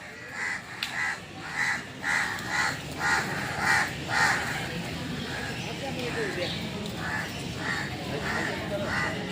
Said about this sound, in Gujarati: આપણા દેશી કાગડા